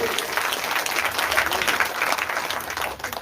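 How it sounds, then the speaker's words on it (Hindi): Audience applause at a Bhagavat Katha religious discourse, a broad wash of many hands clapping that holds steady for a few seconds before easing slightly at the end. "जोरदार ताली होना चाहिए"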